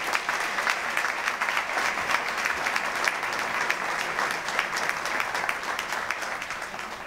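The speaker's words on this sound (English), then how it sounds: "Let's give these three guys a great round of applause." Outdoor crowd applause at an LSU College of Engineering groundbreaking ceremony, steady dense clapping from many people that holds evenly for several seconds with no speech on top.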